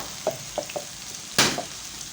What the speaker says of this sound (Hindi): ये देखिए बहुत ज़बरदस्त ये फ्राई हो रहे हैं।